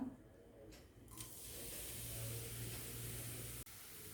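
Ground coconut mix with curry leaves hits a hot pan for drumstick thoran, setting off a steady hiss and sizzle after a couple of clatters, quiet and continuous.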